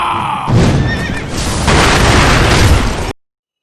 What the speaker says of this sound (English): His horse running around gives you adrenaline to keep up with his pace as well.